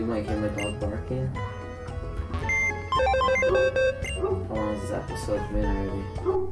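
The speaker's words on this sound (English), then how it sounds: "You might hear my dog barking." A dog barks in short yips mixed into busy Pokemon Y game music and chiming effects, the barks fairly faint beneath the steady background.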